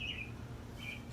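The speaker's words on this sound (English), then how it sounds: "I think I caught up to the wren." A wren in a cherry tree gives a couple of brief high chirps, faint and slightly distant, over a steady outdoor background rumble on a sunny day.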